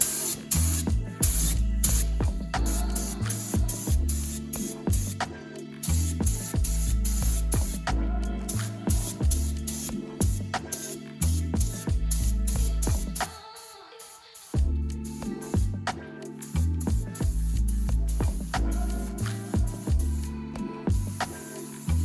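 Spray gun applying Imperial Blue paint to the front end of a V8-swapped MR2, a steady hissing spray heard through most of the stretch under loud rhythmic background music.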